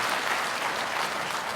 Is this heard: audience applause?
yes